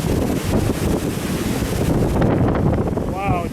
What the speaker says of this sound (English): Wow, it just got really windy.